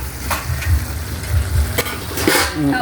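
Pancit noodles stirred and tossed in a hot pan, with close scraping and shuffling strokes over a soft frying sizzle and a few sharper clinks.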